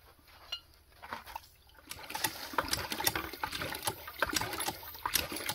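Water gushing in pulses from a hand pump on a sand point well at an off-grid cabin build, with rhythmic squeaks and clanks from the pump handle, growing steadier and louder after the first two seconds, with no talk.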